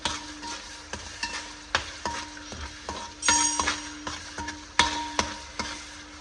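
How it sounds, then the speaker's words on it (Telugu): Turmeric frying in a pan, a continuous sizzle broken by regular sharp scrapes and taps of a spoon stirring against the metal, close and without talk. "మంచిగా ఫ్రై చేద్దాం"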